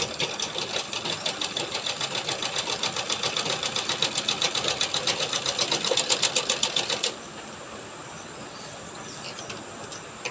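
An electric sewing machine stitching a blouse runs in fast, even mechanical pulses for about seven seconds, then stops abruptly, leaving a quiet hum of background.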